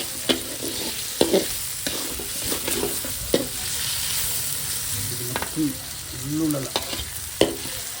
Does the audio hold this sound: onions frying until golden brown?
yes